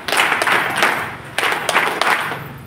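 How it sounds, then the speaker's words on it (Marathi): A gathering of women at a village loan fair claps in welcome, three loud rhythmic group claps sounding together, repeated in two rounds over a murmuring room. "आपल्या ग्रामसंघाच्या सचिव मनीषाताई थोरवे यांचं देखील आपण 3 टाळ्या वाजवून स्वागत करू"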